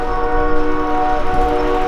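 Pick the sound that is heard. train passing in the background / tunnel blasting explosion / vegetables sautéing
train passing in the background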